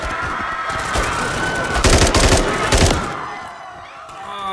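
Close automatic gunfire in Modern Warfare 3, loud bursts of rapid shots that swell to a heavy peak in the middle, then fade toward the end.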